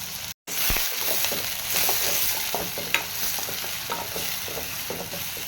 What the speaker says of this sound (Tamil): வெங்காயம் கொஞ்சம் பொன்னிறமாக வர வரைக்கும் வெயிட் பண்ணுவோம்